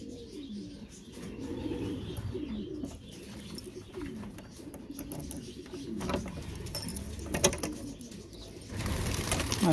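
Pigeons cooing close by in a loft, soft repeated rolling coos with some chirps and light shuffling, no talking.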